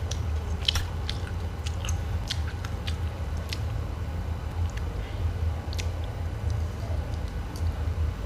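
Someone chewing grilled duck close by, soft moist bites and crunchy clicks scattered over a low, steady room rumble, fairly quiet with no clear talking.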